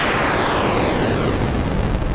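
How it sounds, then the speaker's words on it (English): A harsh, grainy wall of bit-crushed synthesizer noise, loud and constant, with a gritty downward-sweeping tone layered through it. "And bit crush noise, which is my favorite."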